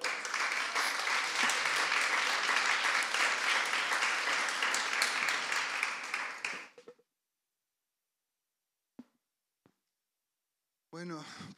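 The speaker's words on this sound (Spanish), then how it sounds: "Un aplauso para él." An audience at a talk event applauds a speaker with loud, sustained clapping that fades out after several seconds, followed by near silence, a couple of faint knocks, and then a voice begins speaking.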